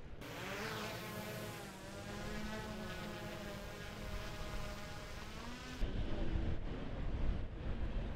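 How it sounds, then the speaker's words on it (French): Aircraft and helicopters flying over Paris, a steady broadband engine roar that stays loud throughout and grows harsher and louder near the end. "Au-delà, c'est les hélicoptères et les avions."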